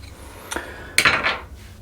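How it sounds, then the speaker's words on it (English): A screwdriver prying an old, calcium-crusted bathtub diverter from its spout, two sharp metallic clicks with a scraping knock, close and brief. "gonna go ahead and grab a screwdriver or something and see if I can grab that out"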